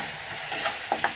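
Onion stirs and fries in a pan for a prawn and taro stolon dish: a continuous hissy sizzle with a few quick scraping clicks of a spatula toward the end, close and brief, no speech.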